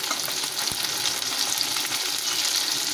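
Chopped onions fry in hot oil with a dense, loud, continuous hiss, broken by occasional soft scraping as they are stirred in the pan.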